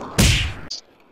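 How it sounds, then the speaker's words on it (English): A single loud, sharp gunshot sound effect from a Roblox game, a close burst lasting about half a second followed by a short higher ping, with no talk. "I like how it makes a gunshot sound every time you go over."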